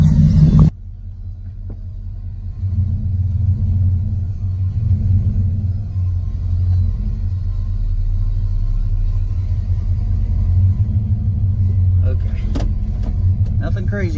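A vehicle's engine rumbles low and steady as it pulls a boat trailer out from under a boat, a continuous close drone with a few faint clanks near the end.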